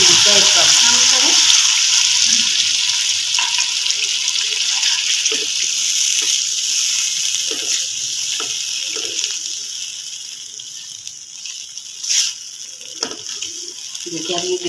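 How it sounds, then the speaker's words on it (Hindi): Milk poured into a pan of sizzling mutton magaz korma, a loud continuous fry and hiss that settles into steady bubbling with faint stirring scrapes, close by and with no talking. "अब इसमें ये दूध का 1 कप शामिल करें।"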